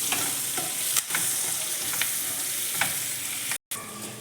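Chopped onion sizzling steadily in hot oil in a pan for a spicy dry chicken dish, with curry leaves added. Frequent scraping stirs recur throughout, close and fairly loud, broken by a brief silent gap near the end.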